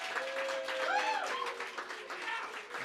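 A small crowd claps and cheers at a live comedy show, a brief loose burst of applause mixed with voices and laughter, fairly close and moderate in level.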